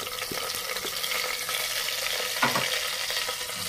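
Onion and garlic fry in a pan while being stirred, with a constant sizzle broken by scrapes and clinks of the spoon, close up and without voices.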